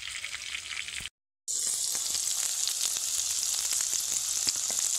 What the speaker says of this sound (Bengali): এইবার দিয়ে দেবো পেঁয়াজ কুচি।